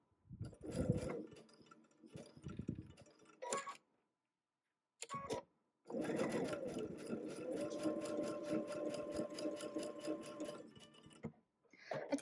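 A domestic sewing machine runs stitching a quilt seam on a Tula Pink butterfly block, set at a 2.5 stitch length with a quarter-inch seam, in several short bursts and then one long steady rapid whir, with brief silent pauses between runs.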